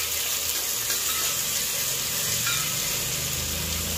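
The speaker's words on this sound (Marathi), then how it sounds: "टोमॅटो अद्रक लसूण पेस्ट छान परतून घ्यायची आहे।" Chopped tomatoes with ginger-garlic paste sizzle steadily in a pan, a continuous close frying hiss with faint stirring underneath, no voices.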